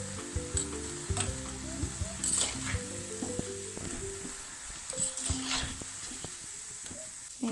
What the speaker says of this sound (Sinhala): මේක හොඳට රවුම පැහැ වෙනකම් බැද ගන්න ඕනේ